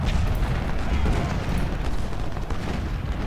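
Artillery and musket fire from the Civil War battle game Ultimate General: Civil War form a continuous loud, dense roar of overlapping booms and crackling volleys. Speech runs over it throughout.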